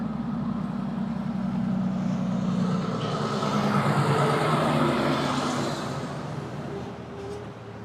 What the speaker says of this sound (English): So can you hear loud traffic noises?